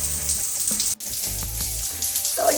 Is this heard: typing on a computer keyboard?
no